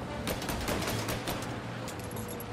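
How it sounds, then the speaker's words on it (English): Gunfire in Mafia: Definitive Edition, a fairly quiet, steady rattle of rapid shots blended into continuous background noise throughout. "I don't like the shooting"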